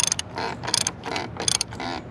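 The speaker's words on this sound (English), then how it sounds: "So that's when I'm gonna grab my socket. Go ahead and give it its final snug." A socket ratchet gives a final snug to the plastic fuel filter cap on a Ford 6.0 diesel, producing close, rapid clicking bursts in several short strokes with brief pauses between them.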